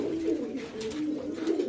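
Pigeons coo softly and continuously at close range, a low rolling murmur with repeated throaty pulses and no other sounds.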